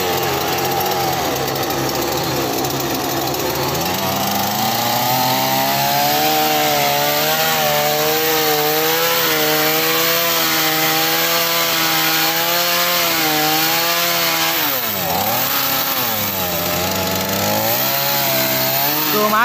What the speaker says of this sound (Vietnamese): Cưa máy mà anh cầm anh cưa bộ à